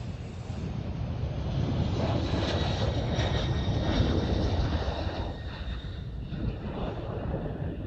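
Delta passenger jet at Amsterdam Schiphol Airport, a broad steady engine roar with a faint whine, fairly loud and sustained, swelling slightly in the middle and easing toward the end, no voices.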